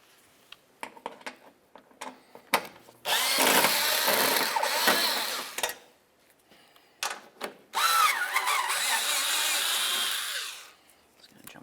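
A power tool removes bolts from an underbody plate on a Toyota Solara, two long loud whirring runs of a few seconds each, separated by clicks and knocks of handling, close and without talk.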